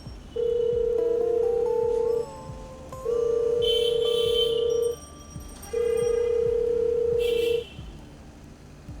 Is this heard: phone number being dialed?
yes